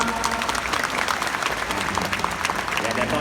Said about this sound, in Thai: ขอเสียงปรบมือดังๆหน่อยครับ